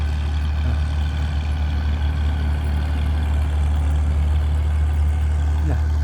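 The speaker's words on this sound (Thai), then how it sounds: "เห็นไหมรถไถสีเงินเนี่ย มันดันดินนะ" A small silver bulldozer pushes soil on a railway embankment construction site, its heavy diesel engine droning steadily and loudly at close range with a deep low rumble and no talk.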